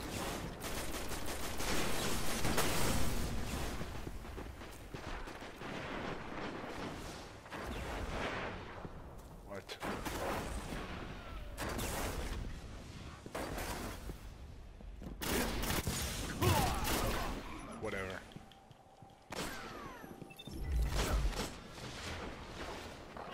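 Shotgun blasts in the video game Destiny pound out in heavy, repeated volleys, with dense bursts of gunfire crowding together through a chaotic firefight before easing briefly and flaring up again.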